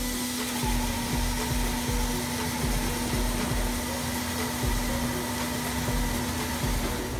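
A Posh Spolfix K660 firewood processor runs with a constant loud mechanical roar and hum, with faint irregular knocks and thuds of wood being handled underneath, no voices.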